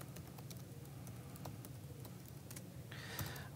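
Quiet, irregular clicking of fingers typing git commands on a computer keyboard, short bursts of keystrokes over a faint room hum with no speech.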